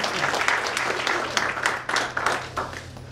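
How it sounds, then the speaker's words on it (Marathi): Hearty applause from the audience at a women writers' society memorial lecture in Nagpur, a dense, steady crowd clapping that carries evenly through a few seconds at moderate loudness. "आशाताईसाठी एकदा जोरदार टाळ्या"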